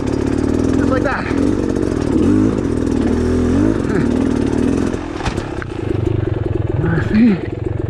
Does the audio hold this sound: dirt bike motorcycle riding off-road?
yes